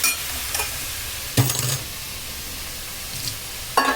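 Oil sizzles steadily in a pan while cooking a cluster bean and dried shrimp curry, with a few sharp clinks of utensils and stirring scrapes breaking through the continuous fry.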